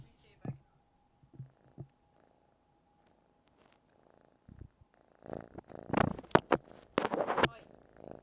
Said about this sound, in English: Do you guys want to hear his purr?